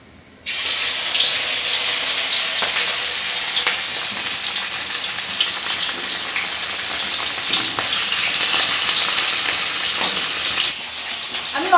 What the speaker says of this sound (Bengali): আমি অল্প অল্প করে মাছ দিয়ে ভেজে নেবো